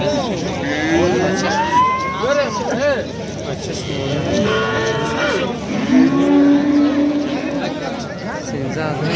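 Cattle at a livestock market in Nuronshoh, Mastchoh, lowing with long, loud moos over a steady babble of traders' voices and market hubbub.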